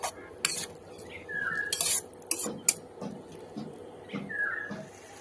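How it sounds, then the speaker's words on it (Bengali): A metal spoon scrapes and clinks against a pan while stirring potato and spice filling for samosas, in repeated bursts, with soft stirring rustles between the sharper clanks, close up. "ভালো করে আমি মশলাটাকে ভেজে নেব আলুর সাথে ভালো করে একটু মিক্স করে নেব"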